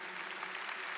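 A church congregation applauds, a dense, steady wash of many hands clapping filling the room.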